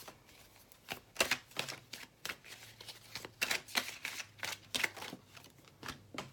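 Close, soft riffling and flapping of tarot cards being shuffled in quick irregular bursts, fairly quiet, with no talking.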